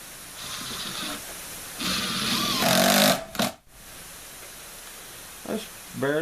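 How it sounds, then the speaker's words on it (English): A power drill drives screws into a wooden board of a deep beehive brood box in two whirring bursts, the second louder with a rising whine, then a brief clack and quieter handling sounds. "But let me go ahead and screw this down first."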